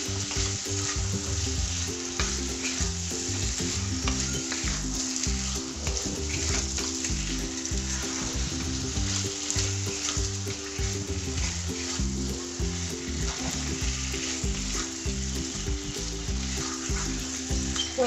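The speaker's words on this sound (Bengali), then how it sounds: "মাছগুলোকে দিয়ে একটু ভালো করে আর একটুখানি সামান্য কষিয়ে নেব।" Pieces of shankar stingray fish fry in a pan for a spicy Bengali jhaal, giving a loud, steady sizzle with repeated scraping strokes of stirring, close up, with no voices throughout.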